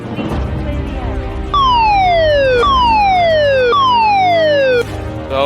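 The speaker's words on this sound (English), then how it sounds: "The assembly siren is about to sound." A loud video game siren, a lifeboat crew assembly alarm in ROBLOX, sounds alone, its tone repeatedly starting high and sliding downward in long wails, over a steady low hum.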